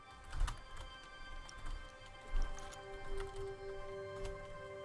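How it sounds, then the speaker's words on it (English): Someone types on a computer keyboard, producing soft, irregular clicks and key thumps at a moderate distance over a faint steady electronic hum. "can you hear me clicking on the keyboard?"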